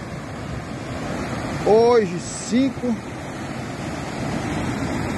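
Floodwater of the Rio Macaco in Ceará, Brazil, swollen after heavy rain, rushes in a steady, broad roar that runs through the whole clip, starting to pour over a bridge, as someone talks over it.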